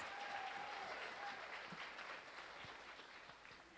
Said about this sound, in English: yes, that deserves a huge round of applause.